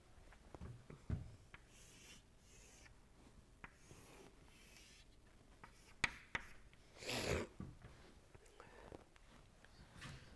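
A pen scratches across a surface while a control volume diagram is drawn during a thermodynamics lecture, with faint irregular strokes and one louder rasping burst, quiet and close.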